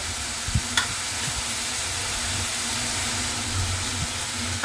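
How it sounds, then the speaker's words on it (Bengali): Onion, ginger and garlic paste frying in a pan for chicken do piyaza, a low, even hiss with a couple of soft utensil taps early on, steady and unvoiced throughout. "আদা, রসুন এবং পেঁয়াজের কাঁচা গন্ধটা যতক্ষণ না যায় আমি ততক্ষণ কিন্তু এটা এভাবে মশলাটা আমি ভাজতে থাকবো।"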